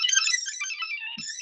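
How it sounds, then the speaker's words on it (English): Bright, tinkling synthesized tones from a PoseNet pose-tracking app that turns body movement seen by a camera into music, a soft fluttering run of high notes with a brief low blip near the end. "so it's making somewhat beautiful music by fitting the shape of, it's just looking at the camera"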